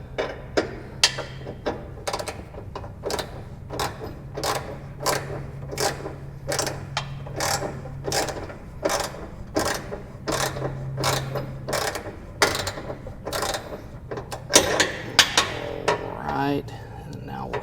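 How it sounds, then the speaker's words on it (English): Ratchet working on the deck adjustment of a John Deere E110 tractor-style mower, giving steady, evenly spaced clicks close up for about seventeen seconds, with a faint low hum beneath. "So go ahead and get that ratchet."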